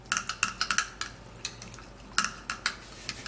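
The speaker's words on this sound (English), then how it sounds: "now I would have to stir it first" A spoon stirs a beetroot juice face mask mixture in a bowl, producing quick, irregular clinks and scrapes close to the mic, some in rapid clusters, over a quiet background.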